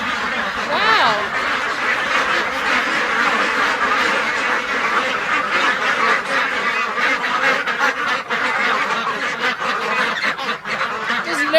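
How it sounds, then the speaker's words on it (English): Around 400 ducks crowd a shed, a loud, dense chorus of overlapping quacks and honks that continues without a break, close by and filling the space, with no clear speech over it. "We have 400 ducks."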